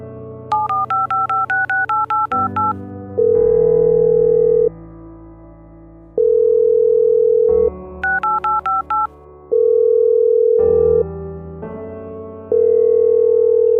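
A telephone call being placed: two bursts of rapid keypad dialing beeps, each followed by long, evenly spaced ringback tones, loud and clear with no speech.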